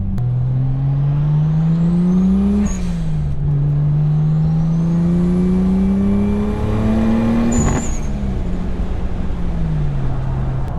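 A Toyota MK3 Supra accelerates hard onto a highway, the engine note climbing steadily through two long pulls with a brief dip between gear changes, loud and close from inside the car with no talking.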